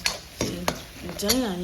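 Masala paste frying in oil in a pan and being stirred, with a few sharp scraping strokes over a soft sizzle while someone talks.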